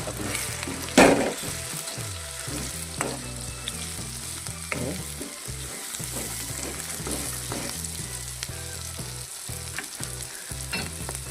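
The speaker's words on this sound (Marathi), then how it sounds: "आता आपण कांदे टमाटो आणि मिरची शिजल्यात त्याच्यात मसाला टाकून घेऊ" Onions, tomatoes and chillies fry in a pan with masala added, a loud continuous sizzle broken by repeated stirring scrapes and one sharp clatter near the start.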